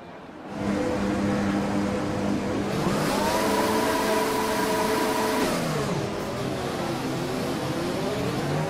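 Simulated race car engine in a racing video game revving up at the start of a Brazil Grand Prix league race, a steady loud tone whose pitch sweeps up and down over several seconds.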